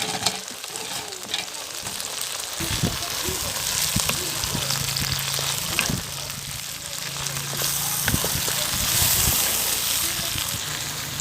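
Fried chicken pieces sizzle in a sauce of vinegar and soy in a clay pot for village-style chicken Manchurian, a steady close frying hiss with occasional stirring clatter throughout.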